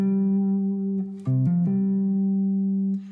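An electric guitar plays a slidey legato lick in fourths, a sustained tone that shifts through a quick run of sliding notes before settling back onto a held note, alone and clear.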